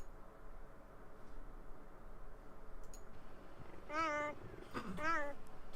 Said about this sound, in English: apparently cheetahs don't roar, they meow.